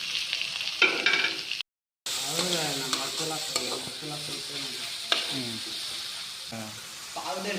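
Tomatoes fry and sizzle in a pan while being stirred, a continuous close hiss broken by scraping strokes and a brief cut to silence partway through.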